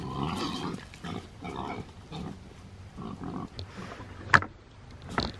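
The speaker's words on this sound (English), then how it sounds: "With pigs, there's always one dominant one. And no matter what you do with the feed, they don't want the other one having any." Pigs squabble over feed spread out in a long line, letting out a run of harsh grunts and squeals in choppy bursts, with one sharp squeal standing out near the end.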